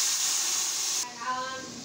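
Scale-free fish dropped one by one into hot mustard oil, giving a soft steady hiss and sizzle that changes and settles as they hit the pan.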